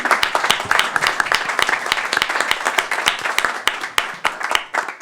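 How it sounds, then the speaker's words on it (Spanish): Close, distinct clapping from a small group applauding the participants of a mock oral trial at a courtroom, individual hand claps clearly audible in an uneven, lively rhythm. "yo les pido un aplauso, por favor, a todos los que participaron en este"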